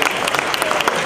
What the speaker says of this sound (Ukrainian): Ваші бурхливі оплески!